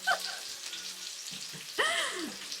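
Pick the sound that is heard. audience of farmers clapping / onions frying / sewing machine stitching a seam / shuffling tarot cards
onions frying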